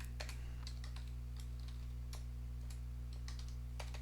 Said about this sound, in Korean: 더미 텍스트를 하나 입력해 줄게요.